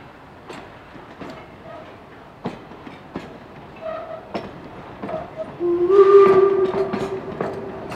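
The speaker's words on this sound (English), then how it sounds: "we have a train coming. This is a tourist train" A steam tourist train rolls past a covered bridge with rhythmic clickety-clack of wheels over rail joints, growing louder, with a brief whistle and rumble as it passes close by.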